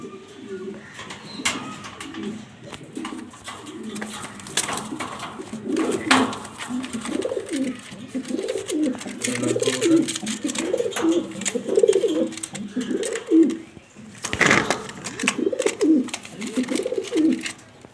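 Pigeons offered for sale, a male and female of matching rare colour, cooing in steady repeated rolling phrases close by, with some bird rustling and a sharp knock partway through.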